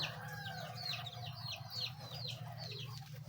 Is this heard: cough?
no